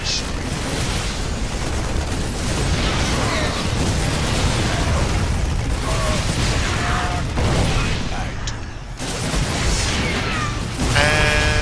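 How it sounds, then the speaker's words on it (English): Siege tanks in StarCraft 2 battle: dense, loud game combat with repeated explosive bursts and mechanical clatter, and a voice talking over it. "looks like they got a siege tank on the high ground"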